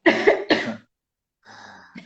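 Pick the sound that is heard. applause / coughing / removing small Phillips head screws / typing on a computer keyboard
coughing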